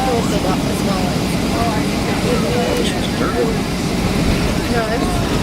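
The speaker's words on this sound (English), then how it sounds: "It's a very smooth landing." A Boeing 757 airliner lands on the runway at San Jose del Cabo, heard from inside the cabin as a steady, loud engine and rolling roar, with people talking over it.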